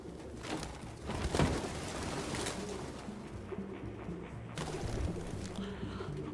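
Pigeon-like birds cooing in a game scene from Detroit: Become Human, soft repeated calls set against a dense, steady ambient wash.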